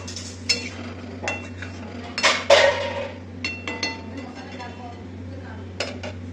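A lid is set over a pan on a gas stove during vegetarian cooking, giving a few sharp metallic clinks and a brief rattle near the middle, with a low steady hum beneath and light clatter around it.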